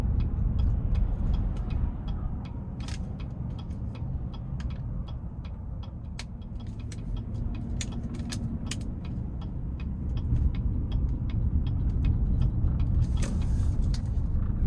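A 2017 Chevy Tahoe LT Luxury with the 5.3 engine and 136K miles, heard from inside the cabin while merging onto an interstate: a steady low engine and road drone with light ticking that swells noticeably louder toward the end.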